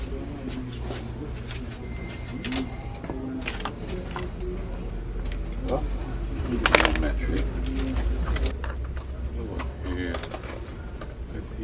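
Metal bolts and nuts clink and rattle during a bay assembly job in a workshop, giving light scattered jingles over a steady low hum, with one louder clatter in the middle and people talking at times.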